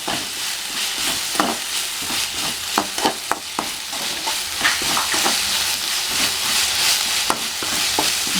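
Ginger garlic paste and cumin sautéing in a pan for masala bajji, a continuous sizzle with frequent spoon stirs and scrapes at close range.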